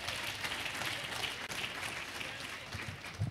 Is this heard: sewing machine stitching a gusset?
no